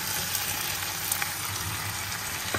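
Chicken cooking down in oil in a pan gives off a steady, even sizzle from start to finish, close and unbroken, with a few faint clicks and no voices.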